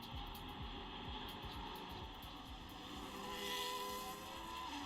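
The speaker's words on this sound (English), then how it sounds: "Listen to the engine sound." A Formula 1 race car engine in the F1 25 video game, a high revving whine with rapid pulsing and shifting pitch, steady and moderately close, with no talking.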